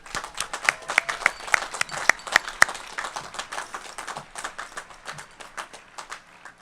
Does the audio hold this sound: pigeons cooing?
no